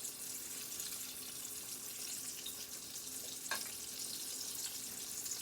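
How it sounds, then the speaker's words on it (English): Oyster mushrooms fry in a pan with a steady, close sizzle and crackle, broken by a brief sharper pop partway through; no voices. "Just gonna finish frying these up."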